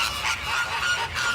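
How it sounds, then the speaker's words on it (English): A flock of pink flamingos at a marine park honks in a steady, dense chorus of overlapping nasal calls, fairly loud and close, with no talking. "they're flamingos, yeah,"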